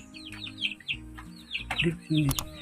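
Several small chicks gathered at a drinker give a run of high, rapid peeping chirps up close, with a few soft low clucks, some knocking and a short burst of louder calls toward the end.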